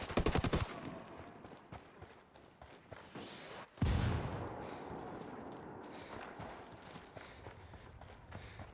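Rebels fire guns in a Santa Blanca video game firefight: a fast burst of automatic fire at the start, then a loud close blast and a continuing noisy din of distant shots and rattle.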